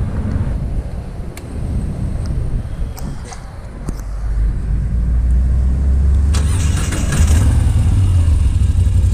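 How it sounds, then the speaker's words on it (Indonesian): A Moto Guzzi V7 Stone motorcycle engine idles with a low rumbling throb that grows louder and fuller partway through, with faint clicks and some wind noise. "motor ini kalau dihidupin benar-benar getarannya benar-benar gahar"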